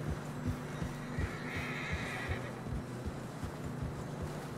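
In the video game Red Dead Redemption 2, a horse whinnies faintly over a low, steady hum, with soft rhythmic thumps of hooves plodding through deep fresh snow.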